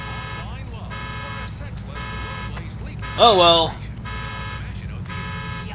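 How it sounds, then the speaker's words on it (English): Stolen car's alarm blares in Grand Theft Auto IV, a steady repeating electronic tone running under the whole stretch, with someone talking briefly over it. "if the police happen to see you with a car that has its alarm going off, that's a wanted meter."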